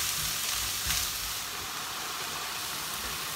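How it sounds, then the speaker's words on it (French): Leeks sauté gently in a frying pan, giving a soft, steady sizzle and hiss that stays fairly quiet and close. A brief stir or shuffle sounds near the start, and no one speaks. "on va faire fondre les poireaux pendant 5-10 minutes"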